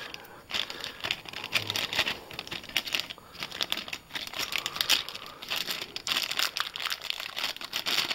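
Small plastic bags from an arcade button kit being opened, close crinkling and crumpling of thin plastic in irregular bursts with occasional tearing, no talk.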